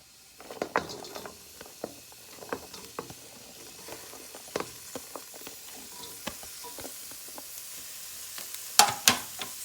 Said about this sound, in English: I'm gonna start with the stir fry veggies now